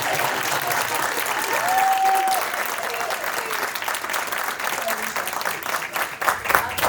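Sustained applause from a crowd fills the whole stretch, steady and fairly loud, with a brief tonal whistle-like sound partway through.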